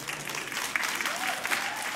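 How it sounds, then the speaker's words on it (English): Church congregation applauding for newly married couples, a short, steady burst of clapping from a large room, fairly soft and even throughout. "Why are you clapping for them?"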